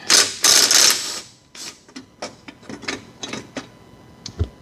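A wrench backs out the last bolt on the wastegate area of a 1986 Porsche 944 Turbo, opening with a loud harsh scrape, then a series of close, irregular metallic clicks and ratcheting ticks without talk.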